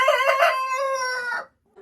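A laying hen gives one drawn-out, loud, nearby cackle of a call, close to the microphone, then falls silent.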